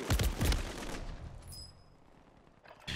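Gunfire from the Warzone (MW3) video game comes as a rapid burst of several loud shots at the start, then fades into quieter game ambience before another loud burst at the end.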